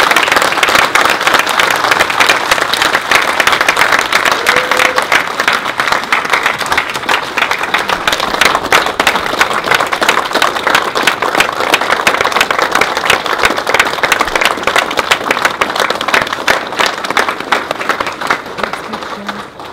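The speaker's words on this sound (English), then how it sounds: "Let's give Ron a big," Loud, sustained audience applause at a memorial gathering, dense continuous clapping from a sizable crowd that holds steady for about twenty seconds.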